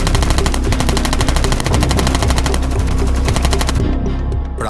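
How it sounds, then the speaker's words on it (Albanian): Kalashnikov automatic gunfire rings out as a loud, sustained burst of rapid, evenly spaced shots that continues for several seconds before cutting off abruptly, leaving a brief quiet tail. "Rion Kashari dhe Elton Mermali, të cilët hapën zjarr me Kalashnikov, duke i lënë të vdekur të dy."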